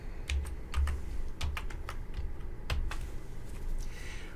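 Someone types on a computer keyboard in a quiet room, a run of light, uneven key clicks with a few heavier taps, close and fairly faint.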